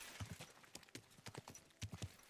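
Horse hooves clip-clopping on the ground in Kingdom Come: Deliverance 2, a quick uneven run of soft thuds at moderate distance, quiet and without speech.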